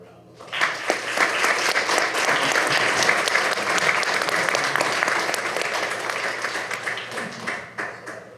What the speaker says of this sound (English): Please give Butch Irvin another round of applause